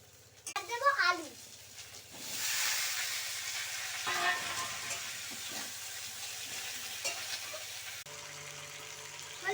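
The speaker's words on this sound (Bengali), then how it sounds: "ঝিঙেগুলো দিয়ে হালকা ভেজে নেব।" Ridge gourd and potatoes fry in a pan with a steady, moderately loud sizzle, broken by a few brief clatters of stirring; a voice is briefly heard near the start.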